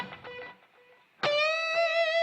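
Electric guitar played through an 808 screamer distortion pedal: a few muted picked notes, then a sustained, saturated chord ringing loud and bright with rich overtones.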